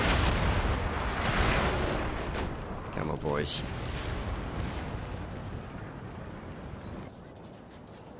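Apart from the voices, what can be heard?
cannon artillery fire in Napoleon: Total War video game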